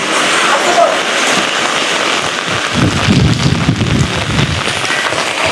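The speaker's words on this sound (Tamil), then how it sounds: "கடும் மழை பெய்து கொண்டிருக்குது" Heavy rain pours down outdoors in a steady, loud, dense hiss that fills the whole stretch without a break, a low rumble swelling midway.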